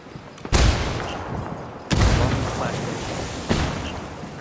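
Booming blasts in the shooter game Ghost Recon Wildlands, where a frag grenade is thrown: three loud sharp impacts about 1.5 seconds apart, each with a decaying rumble.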